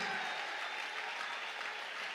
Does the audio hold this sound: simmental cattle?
no